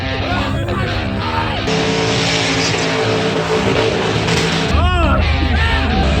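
A car doing a burnout at a budget burnout competition, engine revving hard and droning over a loud tyre-smoke roar, with voices talking underneath and a squealing rise near the end.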